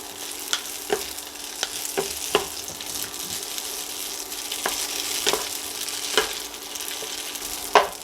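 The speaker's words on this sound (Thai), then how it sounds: "เราก็ลงเส้นสปาเกตตี้ลงไปเลย คนให้มันเข้ากันนะจ๊ะ" Spaghetti noodles are stir-fried in hot oil in a pan for Thai-style spaghetti with grilled pork, giving a steady soft sizzle throughout. Sharp utensil scrapes and clacks are spaced irregularly across it, with no voices.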